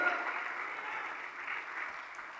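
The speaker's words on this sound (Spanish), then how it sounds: "Fuerte las palmas para el bendito Rey." Steady, dense clapping from a church congregation, continuous and moderately loud with no voices standing out.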